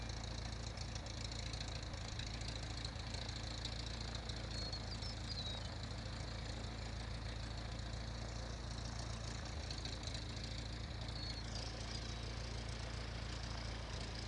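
A Cessna 152 light aircraft engine taxiing on a clear day drones steadily and evenly throughout, with a constant low hum and no breaks.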